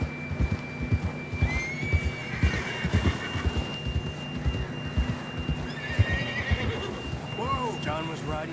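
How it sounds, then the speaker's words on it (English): A horse in Red Dead Redemption 2 whinnies loudly twice, with hooves clip-clopping steadily beneath and game voices talking throughout. "John was riding that horse when we left Blackwater."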